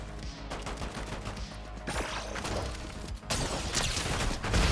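Dense, continuous gunfire in the Fortnite Chapter 5 Season 4 video game, rapid overlapping shots and crashes building louder toward the end, with no talk.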